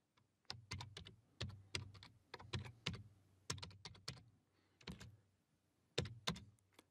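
Typing on a computer keyboard, with uneven bursts of crisp, close keystrokes separated by short pauses and no talking.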